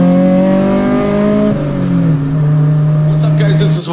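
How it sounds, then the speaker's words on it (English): Loud, close Honda K24 engine in a DC2 Integra revving hard on a VTEC pull, with rising then falling tone as it shifts, ending with a brief noisy burst. "We're gonna do its last VTEC pull of its life while this engine is in this car"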